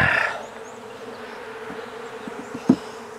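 Agitated honey bees from a swarm buzz in a dense, continuous hum, with a louder pass close by at the start and another brief near buzz later.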